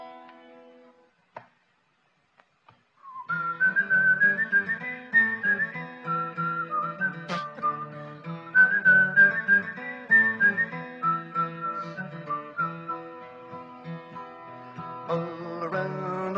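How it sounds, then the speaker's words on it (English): Someone whistles a melodic tune, clear and close, in a thin, tin-whistle-like tone that starts after a brief quiet and runs steadily with small pauses between phrases. "Don't mind my whistling. It sounds like a tin whistle here."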